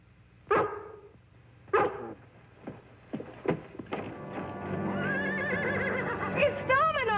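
Domino the horse gives two loud, close whinnies near the start, followed by shorter snorting sounds as music swells underneath.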